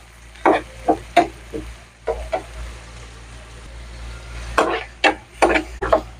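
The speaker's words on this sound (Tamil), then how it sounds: "இது நல்லா வெங்காயம் வேகட்டும்." Onions cook in a pan for a brinjal curry, a low steady frying hiss beneath a series of sharp clacks and scrapes as a utensil stirs against the pan, coming in uneven bursts.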